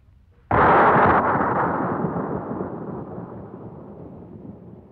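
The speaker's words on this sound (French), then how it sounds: "et le canon tonna" A bronze cannon fires once: a sudden loud, close boom that rolls and decays slowly over several seconds into a lingering rumble.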